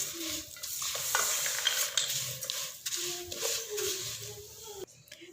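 Browning seviyan vermicelli is stirred continuously in a pan over a low flame. A spoon scrapes and clatters in quick, repeated strokes over a soft, close sizzle.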